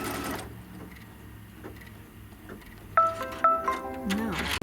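A Kimberbell embroidery machine stitches a trim line on a quilt block, starting with a faint, steady whir and then shifting to louder, rapid mechanical ticking and stitching near the end, with a voice briefly present.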